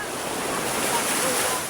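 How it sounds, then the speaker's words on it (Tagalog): A steady wash of broadband noise, sea surf rolling onto a beach in Zambales, Philippines, roars without a break, mixed with wind buffeting the microphone. "nandito nga tayo sa may dagat"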